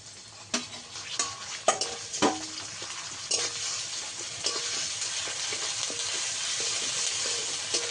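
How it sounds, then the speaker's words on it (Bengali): Onion and ginger-garlic paste fry in salted oil with a steady broadband sizzle, punctuated by several sharp spoon scrapes and stirring clatters early on, then a continuous hiss that holds fairly loud and close throughout. "আদা রসুনটা কিছুক্ষণ ভেজে নেবো যাতে করে কাঁচা গন্ধ চলে যায়"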